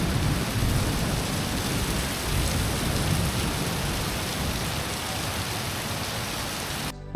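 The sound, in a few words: rain and thunder during a storm in Nainital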